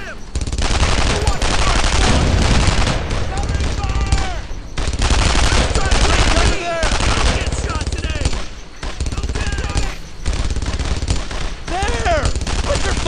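An MG-42 machine gun fires sustained bursts in a World War II video game battle, loud rapid fusillades with brief gaps between volleys, amid other gunfire and shouted voices.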